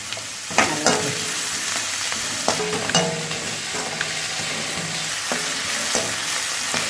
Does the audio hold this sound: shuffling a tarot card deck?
no